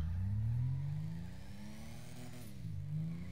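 A turbocharged car engine in GTA V revs up and down, a low, droning engine tone that rises, dips and climbs again, steady and moderately quiet, with no talking.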